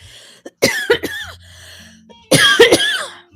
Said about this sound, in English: I go through like a bad coughing fit